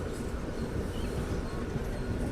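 The Tirupati–Puducherry MEMU Express at Tiruttani station gives off a continuous low rumble with a steady mechanical hum, fairly loud and without a break.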